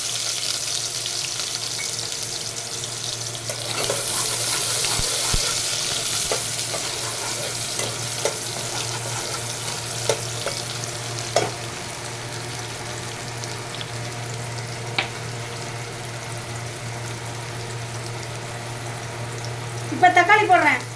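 Onions frying in hot oil in a pan for tomato kuzhambu, a steady sizzle with stirring scrapes and a few clinks throughout, with a brief burst of other kitchen noise near the end.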